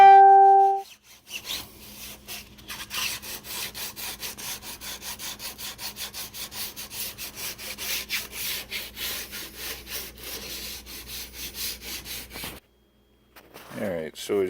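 Steady back-and-forth sanding strokes rub across a wooden muzzleloader stock, close and continuous for about twelve seconds before stopping, with a brief voice at the end.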